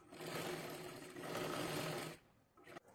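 A sewing machine stitches fabric for a four-tuck blouse, a steady close whirring run for about two seconds that then stops, followed by a few faint handling sounds.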